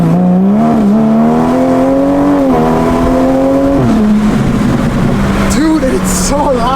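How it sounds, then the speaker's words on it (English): A car exhaust roars and revs as the car accelerates, pitch climbing through gear changes, loud and close, with a brief drop between shifts. "that exhaust is so dramatic"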